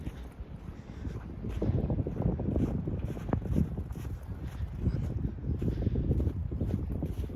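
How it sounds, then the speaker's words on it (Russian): Strong wind buffets the microphone in heavy, rumbling gusts that swell and ease throughout, with no talking, outdoors in Ukhta, Komi Republic, at -3°C in February. "на улице -3 градуса и очень сильный ветер."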